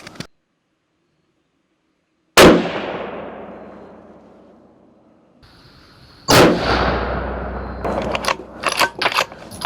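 Two loud rifle shots fired at a long-range target from a budget long-range rifle build, each a sharp crack followed by a long rolling echo, with silence before the first shot and clicks and handling noise after the second.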